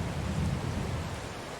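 Steady rainfall in Farming Simulator 22, a continuous dense hiss with a low rumbling undertone that holds evenly throughout, with no talking over it.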